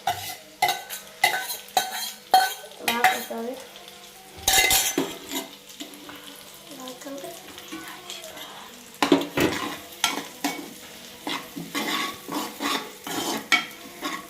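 A pre-cooked egg added to a pan and stir-fried with Yippee noodles, repeated rhythmic clinks and scrapes of a metal spatula against the pan over a low sizzle, close and sustained.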